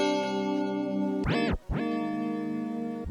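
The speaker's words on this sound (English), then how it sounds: "this is this digi chords preset, and it sounds like this" Sustained, bright digital synthesizer chords from the Xpand!2 plugin with a buzzy, processed tone, interrupted midway by a quick tape-stop pitch swoop down and back up.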